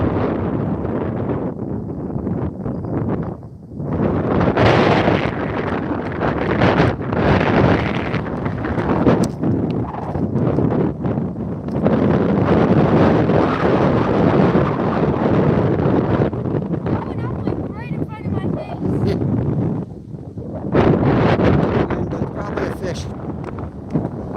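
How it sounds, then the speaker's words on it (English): Heavy 30 mph wind blasting across open ice during ice fishing, a loud, roaring, buffeting rush that batters the microphone almost continuously, with only brief dips; someone speaks in places beneath the gusts. "We got heavy wind, 30-mile-an-hour wind out here."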